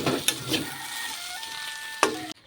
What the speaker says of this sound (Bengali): এই যে আলু ভাজা করে নিচ্ছি